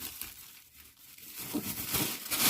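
A plastic bag holding pickling cucumbers is tied shut, with close crinkling and rustling of thin plastic that grows louder toward the end.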